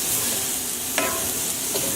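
Chicken and pineapple filling with lime sizzles steadily in a hot pan while a spoon stirs it, giving one clear scrape partway through and a softer one near the end.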